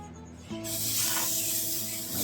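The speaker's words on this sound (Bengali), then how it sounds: "চা ফুটছে" Tea bubbles on a stove in a home kitchen early in the morning, a soft steady boiling hiss that swells after a quiet start and continues without any talk.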